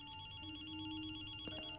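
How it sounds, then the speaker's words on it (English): A telephone rings in Ghostwire: Tokyo, a steady electronic ringing tone that holds without a break and sounds moderately close, with a brief extra knock near the end. "I rigged this phone to ring periodically and play back a recording."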